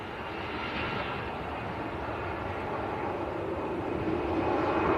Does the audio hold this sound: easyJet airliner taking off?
yes